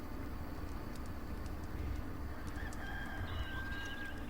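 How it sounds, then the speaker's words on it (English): A rooster crows at dawn in the video game Enshrouded, a drawn-out call rising over a steady ambient game soundscape with a low rumbling bed. "when you hear that rooster crow and you end up laying on your back, then you know night is over"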